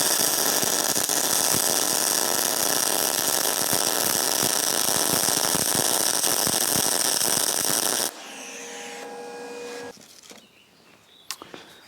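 A MIG welder runs at full power and full wire speed, giving a loud, dense crackling sizzle for about eight seconds. The arc then cuts off, leaving quieter clicks and hum.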